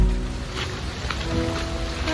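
Water flowing at Tana Sari waterfall in Bali during the rainy season, a continuous broadband rush and splash heard up close with no voices.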